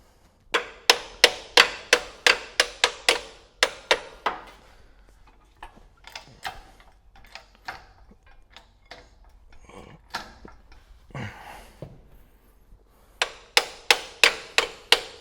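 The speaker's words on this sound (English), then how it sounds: "I used my hammer on the other side." Hammer strikes on a part of a 1977 GMC engine, several fast bursts of sharp metallic taps in quick rhythmic runs, separated by quieter stretches of scattered clinks and handling noise, close up.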